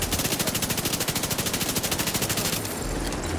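Rapid automatic gunfire from a video game firefight in The Division 2, a steady loud burst of fast shots for about two and a half seconds before it cuts off.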